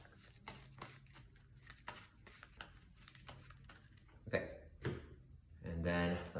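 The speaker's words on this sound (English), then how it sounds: "Shuffle up the discard pile here," A discard pile of playing cards is shuffled back into the deck, a run of quick riffling and slapping bursts, close and fairly quiet, followed by a louder flurry near the end.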